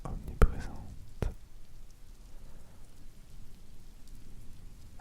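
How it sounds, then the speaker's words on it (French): Steady rain falling all around, a soft continuous hiss near and wide, broken early by two sharp close taps or drops, with a faint low rumble underneath. "la pluie"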